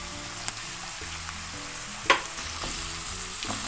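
Vegetables sizzle in hot olive oil with chopped garlic for a vegan paella, a steady bright frying hiss with a couple of sharp clinks and stirring sounds, under a low background hum.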